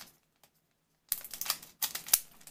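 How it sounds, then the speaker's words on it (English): Trading card booster packs for the WIXOSS card game being cut open, with a quiet tick, then two bursts of crisp foil crinkling and snipping close by, with no talk. "I will cut off all the packs"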